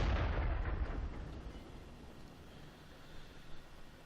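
A single heavy tank cannon shot in World of Tanks booms loud and close at the start, then rumbles and decays slowly into a low echoing tail.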